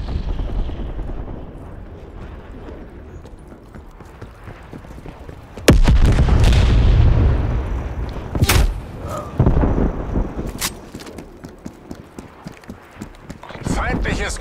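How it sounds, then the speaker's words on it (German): A napalm strike in Call of Duty: Black Ops Cold War lands with a sudden heavy blast, followed by rumbling booms and scattered thuds that roll on over several seconds beneath ongoing battle noise. "Napalmangriff nähert sich."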